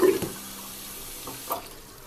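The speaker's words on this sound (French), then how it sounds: "Là, vous voyez, je rince bien." A cyanotype print is rinsed under a running kitchen tap, with a steady close hiss of flowing water and a couple of faint splashes as the paper moves through the stream.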